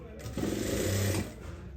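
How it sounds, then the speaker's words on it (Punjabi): A sewing machine stitching lace onto the hem of a straight salwar, a short close burst of motor whir and needle rattle lasting under a second. "ਇਹਦੇ ਉੱਪਰ ਇਸ ਤਰ੍ਹਾਂ ਆਪਾਂ ਹੁਣ ਸਲਾਈ ਲਗਾ ਦਾਂਗੇ"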